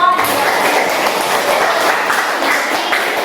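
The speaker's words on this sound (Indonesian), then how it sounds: "berikan aplaus untuk kelompok 2" A classroom audience applauds group 2, with dense, even clapping from many hands that carries at a steady level throughout.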